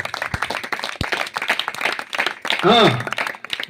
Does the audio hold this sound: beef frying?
no